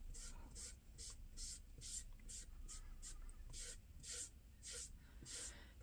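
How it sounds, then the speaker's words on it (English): Quick, soft spritzes from a spray bottle wet a foam brush for painting primitive fall decor, about a dozen short hissing bursts in an uneven rhythm, close and faint, with no talk. "I'm going to spray this down a little bit more."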